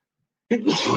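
A single loud, sharp sneeze bursts out abruptly after a moment of silence, close and explosive.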